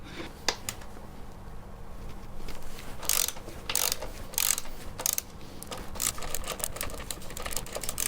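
Bolts being loosened on a Yamaha TZR 250 motorcycle during a rebuild, heard as quick metallic ratcheting clicks and tool clatter in bursts, close and moderately loud, with no talk.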